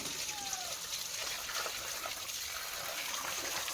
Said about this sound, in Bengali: কলটা ছেড়ে দাও তো, মাছটা ধুয়ে নি